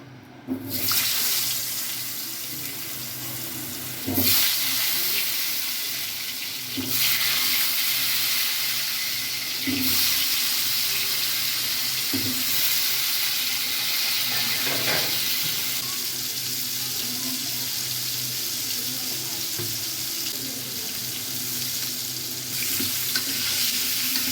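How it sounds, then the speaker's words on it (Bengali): Potatoes frying in leftover egg-frying oil for duck egg biryani, a continuous loud sizzle running throughout, broken by occasional stirring knocks and clinks. "ডিম ভাজার তেলে আমি আলুগুলো ভেজে নেব"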